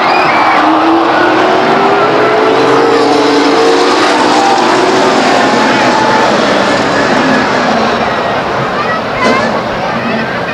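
Race cars roar around the Stockton 99 Speedway oval under green-flag racing, a loud, continuous engine drone with shifting pitch as cars pass, while an announcer talks over it.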